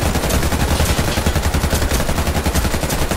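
Loud, sustained automatic gunfire from the shooter game Warface crackles in a dense, unbroken stream of rapid shots throughout, with no voices.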